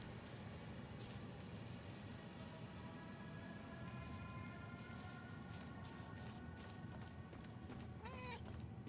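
A single short cat meow near the end, rising over a constant wash of background noise in the video game Murdered: Soul Suspect; no one talks.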